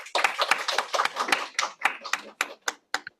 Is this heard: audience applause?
yes